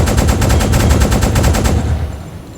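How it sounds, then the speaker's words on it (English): Rapid bursts of aircraft machine-gun fire rake a small ship in a World War II naval video game, a loud, dense rattle of shots for almost two seconds before cutting off into a fading rumble. "Aircraft guns can put some holes in some ships, especially the little ones like this."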